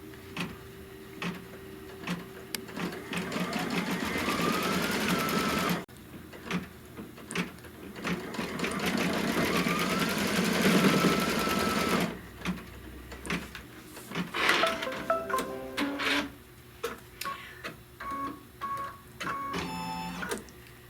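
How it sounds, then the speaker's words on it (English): A home embroidery machine stitches placement lines for a flower design block, with rapid mechanical needle chatter starting and stopping in bursts, then shorter clicking pauses near the end; no talking. "So it's going to stitch these little placement lines first."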